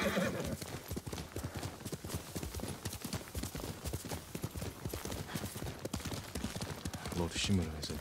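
Kage, a horse in the Ghost of Tsushima video game, gallops with steady rapid clip-clop hoofbeats throughout, joined by a brief whinny near the end, all over continuous game music and ambience.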